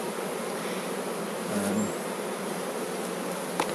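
Honey bees buzzing around a healthy hive in a sunny, sheltered orchard, a steady close drone with a single bee whining past briefly, no voices.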